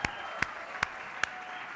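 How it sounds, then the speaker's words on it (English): At a Hall of Fame induction ceremony, an audience applauds the inductees: four loud, evenly spaced claps ring out close by over a soft, steady wash of distant clapping. "A nice round of applause for all of our inductees here this evening"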